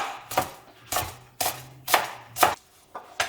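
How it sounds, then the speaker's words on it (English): A knife chopping Chinese parsley on a board, about seven crisp, evenly paced cuts, close and clear with no talking. "Now I get some Chinese parsley. Okay, cut it all up."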